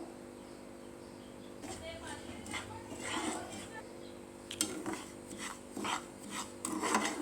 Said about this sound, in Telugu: నూకను అలా కలుపుతూ ఉండాలి లేదంటే ఒక పక్క మాడిపోతూ ఒక పక్క ఏగకుండా అయితే ఉంటుంది